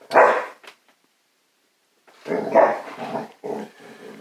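A dog barks in a short burst, then again after a pause with a few more gruff barks and a low growl, fairly close.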